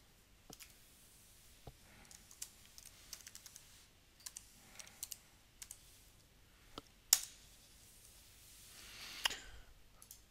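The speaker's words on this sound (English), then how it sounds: "we can do that by simply typing this URL into a web browser" Someone types a URL on a computer keyboard, with sparse, quiet key clicks scattered irregularly over several seconds and a slightly louder clack near the end, close by with no talking.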